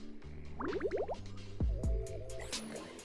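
Water arrives through newly built pipes in a video game, heard as a run of bubbly, dripping gurgles and liquid squishes that settle into a softer trickle, with no talk.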